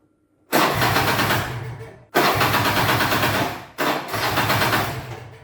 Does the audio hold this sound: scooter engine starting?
yes